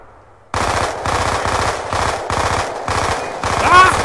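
Automatic gunfire in the video game Black Ops 2, a sudden loud burst of rapid shots that keeps firing in short pulsing volleys after a quiet start, with a voice briefly audible near the end.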